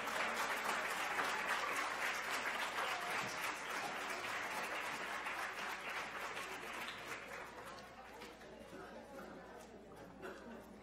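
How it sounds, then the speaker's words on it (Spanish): An audience at a Christmas concert of a music-for-all program applauds, with steady, dense clapping that holds for several seconds and then gradually tapers off, mixed with crowd chatter and voices talking underneath. "Fuerte el aplauso."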